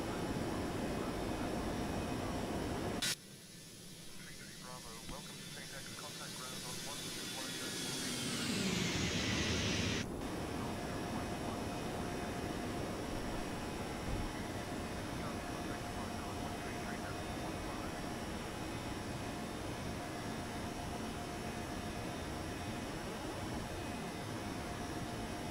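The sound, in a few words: Airbus A321neo jet engines climbing after takeoff, X-Plane 12 video game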